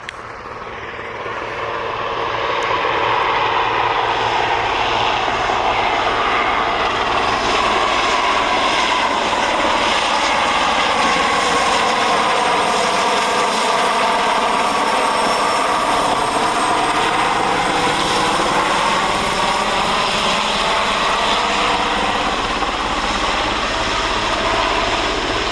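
A helicopter landing, designated Nighthawk 1, with a loud sustained rotor and turbine roar that rises in the first few seconds and holds steady throughout at close range.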